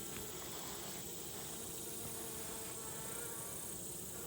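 Honey bees buzzing around a hive, some seemingly coated in sugar or sugar water, give a steady, dense drone that stays close and even throughout without pause.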